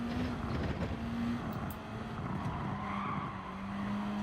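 A race car in Gran Turismo 7 at the Suzuka circuit holds a steady engine tone while its tyres hiss and squeal through a skid, loud and continuous across the whole stretch.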